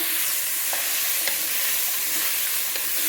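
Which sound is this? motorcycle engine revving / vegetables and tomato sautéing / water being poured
vegetables and tomato sautéing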